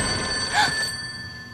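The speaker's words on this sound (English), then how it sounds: "Oh, the phone." Telephone ringing indoors in a comedy film, a brief bright electronic ring with steady high tones that swells once and then fades out, heard alone without talk.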